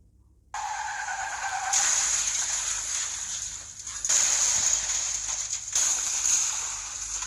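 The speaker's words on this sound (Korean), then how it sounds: "이것은 이탈리아 A1 고속도로에서 일어났던 15중 차량 충돌 소리입니다" Tires skid and screech in a 15-car pileup crash on Italy's A1 motorway, a sustained high squeal that comes in overlapping bursts with engine and road noise underneath, loud and fairly close.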